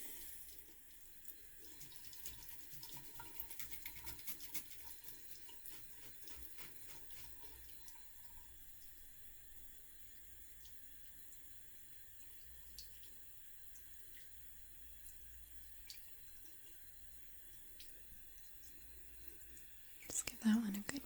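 A makeup brush rinsed under a running tap in a quiet indoor setting, giving a faint, steady stream of water with soft splashing and a few small clicks, ending in a brief louder rustle.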